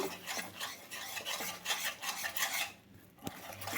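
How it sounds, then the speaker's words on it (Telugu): Gram flour being stirred as it slowly roasts in a pan over low heat, producing a steady dry scraping and rasping of a spoon against the pan, fairly close, with brief pauses and no voices. "మంచిగా కలుపుతూనే ఉండాలండి, మంచి స్మెల్ వచ్చేదాకా"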